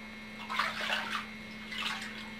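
Water splashes and sloshes in a home bathtub as a child's hair is washed, two short bursts of splashing close by over a low steady hum.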